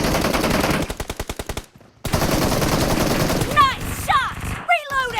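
Rapid automatic gunfire in the mobile battle game PUBG Mobile rattles loudly in a fast rhythm, then pauses. More shooting follows alongside whooshing, chirping game effects.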